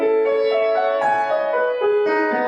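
Solo piano playing Debussy's Arabesque, flowing arpeggiated notes rising and falling in a gentle lyrical line, clear and close.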